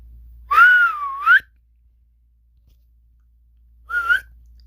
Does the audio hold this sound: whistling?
yes